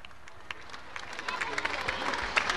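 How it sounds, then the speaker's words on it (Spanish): Applause from a crowd of students at a school inauguration in Tarija, Bolivia, a brief scattered clapping that builds and grows denser over a couple of seconds. "Un aplauso para la Unidad Educativa La Paz."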